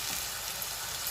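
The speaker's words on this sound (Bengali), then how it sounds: "এখন আমরা একটু নাড়াচাড়া করব যাতে পেঁয়াজটা কিছুটা ব্রাউন হয়" Onions sizzling and being stirred in a hot pan with star anise, cardamom and cinnamon for chicken bhuna, a steady, dense frying hiss with no talking.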